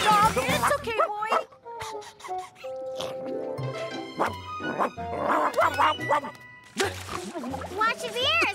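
A cartoon dog barks and yips in short bursts from The Garfield Show, mixed with animated character voices talking over it and light background music.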